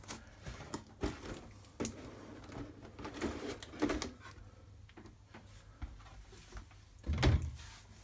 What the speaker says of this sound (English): So we'll get the box lid open.